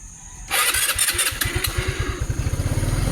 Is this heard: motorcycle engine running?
yes